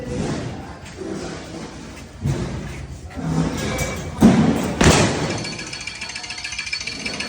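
Punches strike a coin-operated Power Punch boxing machine, giving a few heavy thuds with rattling impacts over a noisy, crowded background, fairly close and loud.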